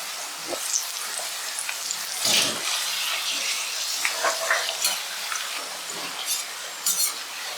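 Cauliflower pieces with curry leaves frying in hot oil for Gobi 65, a steady close crackling sizzle with brief louder bursts as the pan is stirred, no voices.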